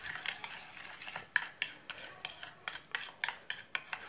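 Lemon juice stirred into a teeth-whitening mixture gives a quiet, rhythmic series of scraping, clicking strokes against a bowl, about two to three per second, close and soft.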